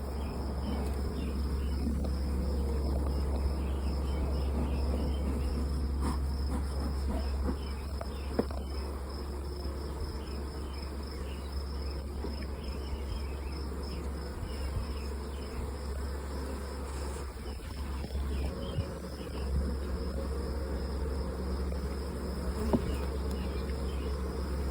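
Honeybees from a captured wild swarm droning around an open hive, a dense continuous buzz close by with a steady low hum, many insects layered together for the whole stretch.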